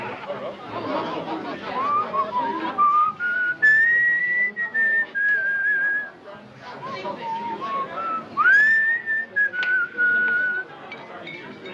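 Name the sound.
whistling a tune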